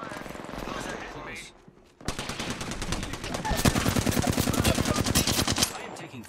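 Rapid automatic gunfire in Apex Legends arena play, dense fast bursts of shots that grow louder and more continuous, with game sounds preceding them.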